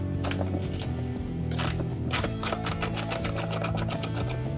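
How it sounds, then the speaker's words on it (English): Bolts being removed from the dash of a Cat utility vehicle: a close, rapid run of mechanical ratcheting clicks with a metallic whirr, steady throughout. "We'll remove these 2 bolts off the dash."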